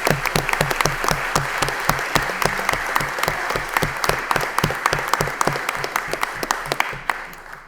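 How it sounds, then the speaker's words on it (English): Lively applause with distinct individual claps fills a school committee meeting room, strong and steady for several seconds before tapering off at the end. "let me ask you to give yourselves a round of applause for your accomplishment this past summer."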